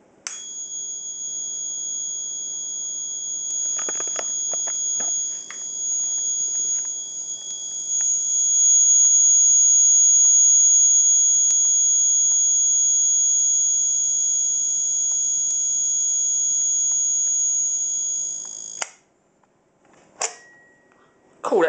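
A plug-in wall socket tester sounds a steady, piercing high-pitched alarm tone that holds for many seconds after it is plugged in, amid some clicks and handling noise, then cuts off abruptly with a couple of brief follow-up beeps.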